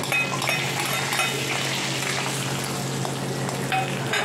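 Cashews, almonds and pistachios fry in ghee with cardamom while carrot halwa is made, a steady close sizzle with occasional stirring scrapes.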